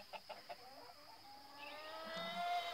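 Chickens clucking in a backyard run, a few soft, short clucks near the start followed by faint, distant bird chatter over a low outdoor background.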